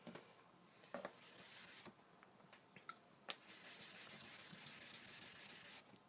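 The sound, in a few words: knife tip being sharpened on a whetstone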